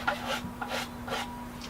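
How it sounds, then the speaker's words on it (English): A fine hand file rasps along the straight edges of dried spot putty on a bonsai project, giving three or four short strokes in a steady back-and-forth rhythm, close and moderately quiet with no talking. "I'll start by filing the straight edges with just a normal file"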